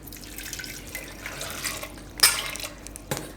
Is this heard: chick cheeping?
no